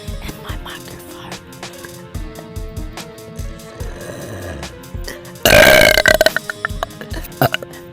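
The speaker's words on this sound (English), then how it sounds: "I'm going to burp very loud in my microphone." A girl lets out a loud, long burp close into a microphone, with light background music playing before and after it.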